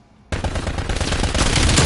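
Sustained automatic gunfire in a Call of Duty match, a loud, dense burst of rapid shots that erupts suddenly after a short quiet lead-in and continues without pause.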